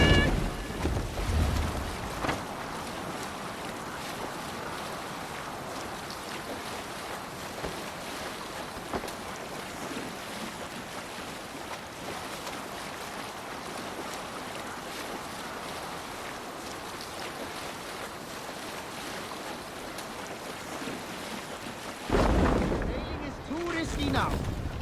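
A Viking longship sails on the open sea in Assassin's Creed Valhalla, with a steady wash of water, waves and wind holding for over twenty seconds, and a louder swell near the end.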